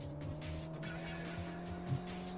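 A police car skids in the PlayStation game World's Scariest Police Chases, tires squealing over a steady engine drone at moderate loudness, with no voices.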